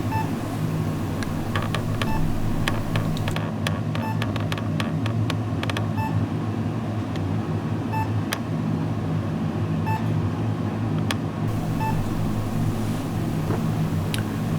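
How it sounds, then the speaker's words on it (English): Short electronic beeps from an RFID reader, each marking a completed inventory of chip cards, repeat at irregular intervals over a steady mechanical hum, sometimes in quick clusters, fairly faint against the background. "every time it beeps is when it's completed its inventory"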